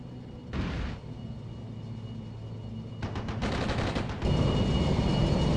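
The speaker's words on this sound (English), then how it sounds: "most of the enemies are located in the town, which our tanks are firing at" Tank gunfire in the wargame Armored Brigade 2, faint and distant: a single boom early on, then a quick cluster of shots and a sustained rumble of battle under steady background noise.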